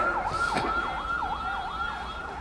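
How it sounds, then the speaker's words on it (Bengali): An ambulance siren wails in a steady repeating up-and-down cycle, loud and continuous against a background of road noise, with a brief broadband burst near the start. "ডানে কি অ্যাম্বুলেন্স যাচ্ছে"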